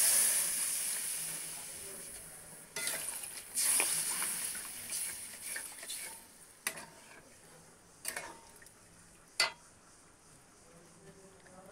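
Water poured into a hot pan of fish curry with potato and eggplant sets off a sharp, steady sizzling hiss. Scattered ticks and pops follow as the steam dies down over several seconds.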